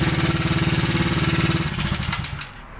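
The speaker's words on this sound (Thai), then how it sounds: "เดี๋ยวดับเครื่องอีกทีหนึ่งนะครับ" A small single-cylinder JX110 motorcycle engine idles with a steady, fast putter, close and loud, then winds down and dies away as it is switched off, with no talking.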